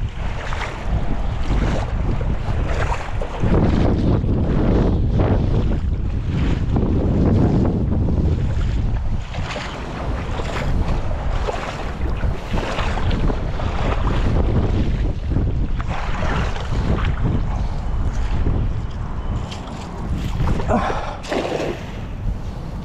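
Strong wind roars continuously across the microphone at sea, with waves and a boat rumbling underneath.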